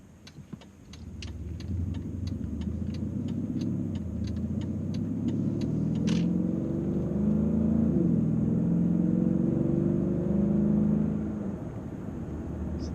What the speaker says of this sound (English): Wasn't going on it hard there, but just the engine sings smoothly.